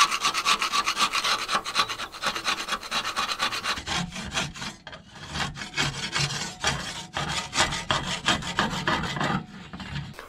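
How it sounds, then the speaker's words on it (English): Harsh, rhythmic scraping and rasping as crusty deposits are worked off a narrowboat stove flue pipe with a screwdriver, close and loud, with quick repeated strokes and brief pauses and no talking. "using the screwdriver as well for some of the crusty bits which were stuck fast, I've cleaned much of it off"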